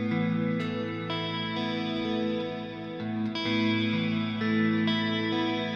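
Layered looped phrases stacked on a Boomerang III phrase sampler looper, with sustained harmonic tones and effects-processed textures repeating in a steady, dense, continuous loop without talking.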